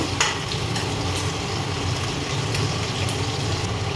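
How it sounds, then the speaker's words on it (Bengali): Chopped onion and slit green chillies frying in a pan, a steady close sizzle with light scraping as they are stirred, continuous and even throughout. "পেঁয়াজটা কিছুক্ষণ নাড়াচাড়া করে নিলাম"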